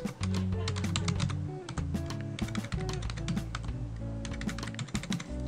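Login name, barcode and PIN being typed on a computer keyboard: a steady run of quick, close key taps over a constant low electronic hum, with a faint voice briefly underneath.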